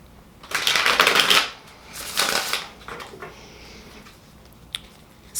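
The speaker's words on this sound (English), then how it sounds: "I'm just really shuffling these a lot to get the Aries energy up in" Tarot cards being shuffled by hand, two close, crisp riffling bursts followed by quieter shuffling and a faint card tap.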